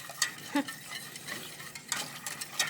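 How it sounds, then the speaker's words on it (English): Chocolate gravy is whisked in a pan for Southern-style biscuits, producing quiet, repeated scraping and tapping strokes of a whisk against metal, close by and fairly faint. "So we're going to keep whisking away here"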